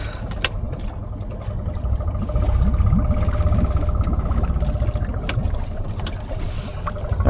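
A 2015-16 Honda Pioneer 500 side-by-side idles with its exhaust and air box submerged in water, giving a steady low rumbling burble with water gurgling, close and continuous without speech.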